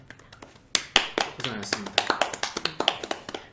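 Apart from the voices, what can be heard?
applause for the camera crew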